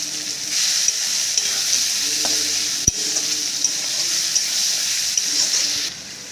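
Spices stir-fry in mutton fat for ghugni, giving a steady bright sizzle throughout, with a single sharp clack of a utensil partway and light scraping, fading slightly at the end.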